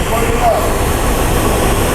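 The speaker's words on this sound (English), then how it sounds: "I guess it's that car running near me." A car engine idles nearby with a steady, close, low rumble and broad hiss that continues without pause for the whole stretch.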